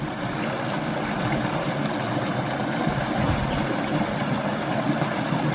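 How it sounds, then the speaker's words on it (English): Winter waterfall in Shawnee National Forest spilling through ice and icicles, a steady broadband rush of falling water that holds at an even level throughout, with no voices. "How's that for a waterfall?"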